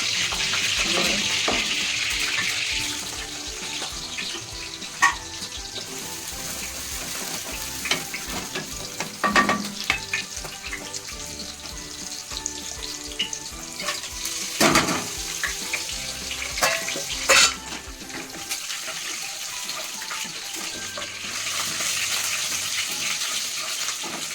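Chicken with homemade masala frying in hot oil for biryani, a loud continuous sizzle with occasional stirring scrapes and bursts of spatter, close up and without speech.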